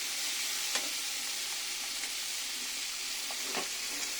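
Meat sizzles steadily as it fries with spices in a pan, a constant close hiss with a few faint scrapes of stirring and no voices.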